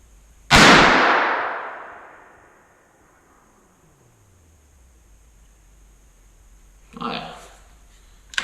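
A single loud gunshot from a Savage Arms Model 2 rifle chambered in 22-250 cracks close by and rings out in a long decaying tail, followed several seconds later by a brief fainter noise burst.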